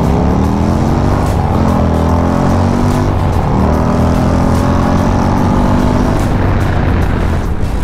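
A Harley-Davidson motorcycle with a 135ci crate engine roars loudly and steadily under hard acceleration, engine note climbing as it rides, with heavy wind rush throughout.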